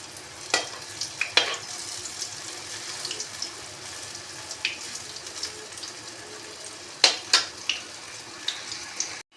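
Balls of washed-flour dough frying in a pan until brown, with soft continuous sizzling broken by scattered clinks and scrapes of stirring, close and moderately loud.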